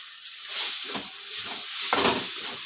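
Vegetables being stirred and fried in a pan over a low gas flame, with a steady soft hiss and a couple of brief scraping stirs, close and fairly quiet.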